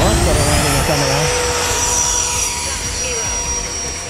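Whining turbine of an RC F/A-18 Hornet model jet landing, loud and close, with the pitch sliding down as it slows, under someone talking.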